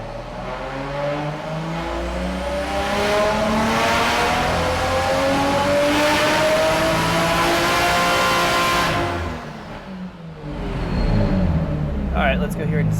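A Nissan RB25DET engine in an S14 makes a wide-open-throttle dyno pull. Its loud rising roar climbs steadily for several seconds, drops off abruptly, then the engine picks back up.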